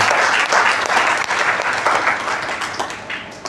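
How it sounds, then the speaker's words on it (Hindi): An audience at a Mi Lifestyle company seminar gives loud, dense, continuous applause that holds steady before easing slightly at the end. "तो एक बार शानदार ताली"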